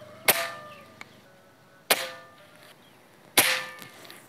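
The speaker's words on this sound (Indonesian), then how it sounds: "tembakan kedua" Three sharp, snappy shots fired at steady intervals from a Predator Black Army Tactical PCP air rifle, each a crisp crack with a brief metallic ring, quiet in between.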